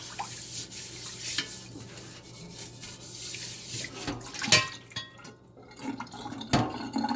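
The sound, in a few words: rinsing a cast iron pan under the tap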